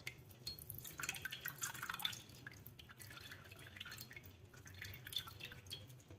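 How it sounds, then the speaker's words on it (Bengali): Water trickles and drips steadily from squeezed chhena, fresh cottage cheese being pressed dry while making homemade Bengali rasgulla, a soft continuous patter with a few brighter splashes throughout. "এবার ছানা থেকে জলটা ভালো করে চিপে নেব।"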